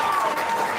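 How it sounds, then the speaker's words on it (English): A crowd of people applauding, steady dense clapping filling the whole brief moment at fairly high volume, with no voices standing out. "What are these people clapping to?"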